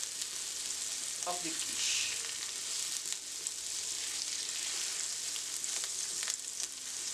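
A cup of sliced onions caramelizing in a pan for a smoked turkey quiche, a constant bright sizzle with occasional stirring scrapes and a brief spoken phrase over it.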